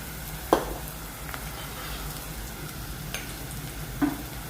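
Turmeric, coriander and chili powders stirred into food frying in a pan, a soft steady sizzle with a few sharp spoon scrapes and knocks against the pan, no voices.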